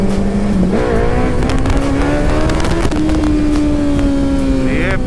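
A Yamaha R1 superbike with a TOCE full-system exhaust revs hard for a wheelie, its engine pitch climbing steadily through the gear under constant loud rumble, with a brief shift blip near the start.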